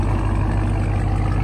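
A RAM TRX pickup with an aftermarket exhaust idles loud and close in a deep, steady, even rumble with no breaks.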